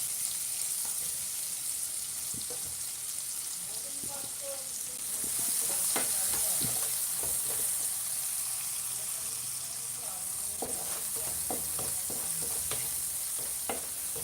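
Onions frying for egg bhuna sizzle steadily in a pan, with a continuous hiss and scattered clinks and scrapes of stirring throughout, fairly close and unaccompanied by talk.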